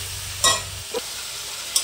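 Spice paste mixed with water frying in oil with a steady close sizzle, broken by a couple of brief stirring scrapes.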